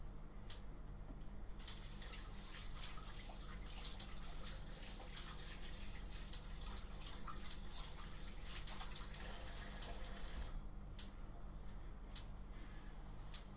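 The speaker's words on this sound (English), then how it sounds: "I'm just going to wash my hands for the next part." Water runs steadily from a tap for handwashing in a home kitchen during pumpkin pie making, a soft continuous rush with occasional faint clicks and taps, quiet and close.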